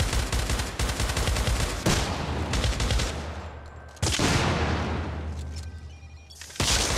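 Rapid gunfire in the video game Syndicate, dense bursts rattling almost continuously with heavy booming onsets, loud and close throughout, no voices.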